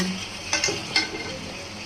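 Chicken being sautéed with spices in a pot for a country-chicken curry, a brief steady sizzle with a few scraping stirs of the spoon.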